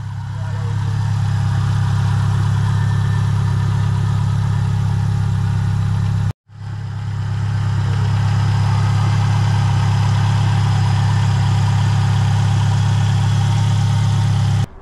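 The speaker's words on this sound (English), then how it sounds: "Today we have Brandon's beautiful hatch going on the dyno." A turbocharged Subaru STI hatchback with a 6466 turbo idles on a dyno, a deep, constant low hum with a brief cutout midway, loud and close throughout.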